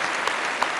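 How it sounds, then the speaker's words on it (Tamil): Applause on a Tamil television game show, a contestant clapping for his friend along with the studio, a steady dense patter with a couple of sharper claps standing out. "அடுத்தது நண்பனுக்காக அற்புதமா கைத்தட்டிய கமல் தீப்"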